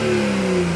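A BMW 135i with its stock muffler revs hard, a loud, steady engine roar with a rising pitch, close up and with no talking.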